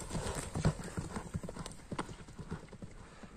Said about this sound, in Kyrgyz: Ат жаныбар мына.